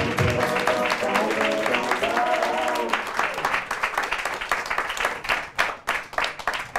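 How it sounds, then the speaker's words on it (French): Applause from a theatre audience welcoming comedian Bruno Banon of the comedy Chinchilla, steady dense clapping over music that fades midway, leaving the clapping thinning toward the end. "Je vous demande d'applaudir Monsieur Bruno Banon."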